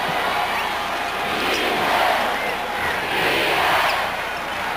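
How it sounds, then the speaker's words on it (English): Basketball arena crowd at a 1996 Bulls vs. Magic playoff game in Chicago, chanting "defense" in a loud, sustained roar that rises and falls in waves, with no clear individual voices. "You hear the chant of defense from the crowd"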